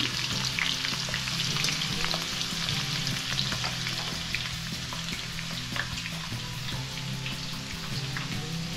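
Potatoes for dum aloo fry in a pan with a steady, dense sizzle and crackle, close up, with occasional stirring and no talking.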